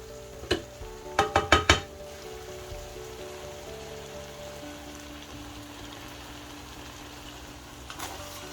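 Noodles for charcoal seafood noodles tossed and mixed in a pan, a quick burst of several loud clattering scrapes early on, then a quiet steady sizzle and one more faint clatter near the end.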